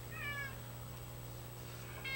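A person imitates a cat's meow during a live tabletop role-playing game session, two brief faint meows, one near the start and one at the end, over a low steady background hum.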